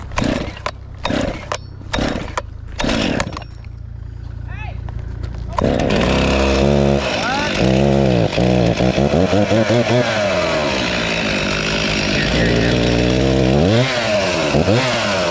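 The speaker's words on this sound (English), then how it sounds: "Never drop start a chainsaw, folks." A chainsaw is pull-started with several sharp cord tugs, then roars into a loud, steady run with revving surges, close by during outdoor work felling a birch tree.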